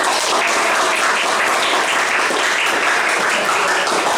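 A class of students applauds together, a dense and steady burst of clapping that stays loud and unbroken from start to finish.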